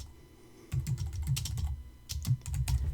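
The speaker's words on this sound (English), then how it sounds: "my typing is terrible here" Fingers tap quickly on a computer keyboard, a close, clattering run of keystrokes in uneven bursts after a brief quiet start.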